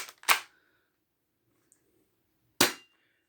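Slide being racked on a Win Gun 731 airsoft revolver: two sharp, close mechanical clacks about two seconds apart, the first a quick double click, with near silence between them.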